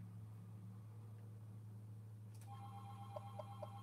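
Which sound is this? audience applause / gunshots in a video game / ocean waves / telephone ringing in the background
telephone ringing in the background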